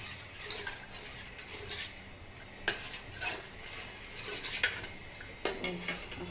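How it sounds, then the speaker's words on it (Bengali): A mango pudding mixture with dissolved agar agar powder stirred in a pot, with soft bubbling and a few sharp spoon clinks against the metal rim, fairly quiet and close. "তখন নেড়ে চেড়ে সব মিশিয়ে নেব।"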